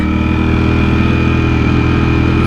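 Ducati Streetfighter motorcycle engine idling: a loud, steady, close-up mechanical rumble with a continuous even throb and no talk.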